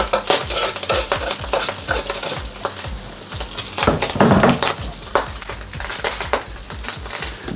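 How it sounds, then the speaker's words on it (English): Pork belly sizzles in a hot grill pan, a steady close frying hiss broken by repeated scraping and clinking of a utensil against the pan, with a brief louder burst of sizzle midway. "gonna hear the sizzle"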